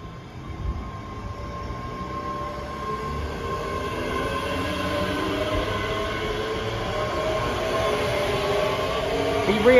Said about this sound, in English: Departing out now is the 1047 ScotRail service from North Berwick to Edinburgh